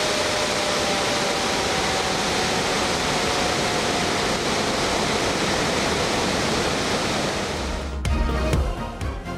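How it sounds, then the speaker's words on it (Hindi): Water gushes from the opened spillways of Rawal Dam, a loud, steady roaring rush like a waterfall, with a brief clattering disturbance near the end. "रावल डैम के स्पिलवेज सीजन में 5वीं बार खोले गए।"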